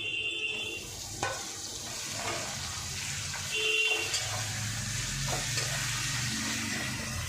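Garlic and chili added to softened onions frying in a pan, a quiet steady sizzle with a few stirring clicks and light scraping, close but low in level.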